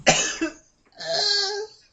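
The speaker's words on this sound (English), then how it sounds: "That made me cough right there." Two coughs from a man on a podcast right after drinking, the first a sharp harsh burst with a short rasp, the second a longer, strained throaty cough, both close and clear with no talk over them.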